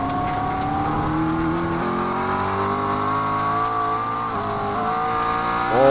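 Rear-wheel-drive race cars in a sim racing game accelerate cautiously on a waterlogged Bathurst circuit, their engines droning and rising in pitch, with several cars overlapping and no pauses.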